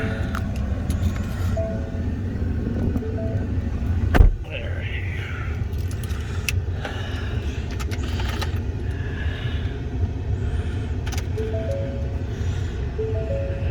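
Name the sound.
2019 Ford F350 XLT truck starting up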